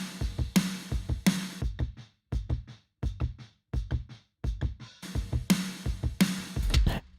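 A natural kick drum blended with a triggered sample thumps in a driving beat, full and punchy, with bright cymbal splashes and a busy drum pattern around it.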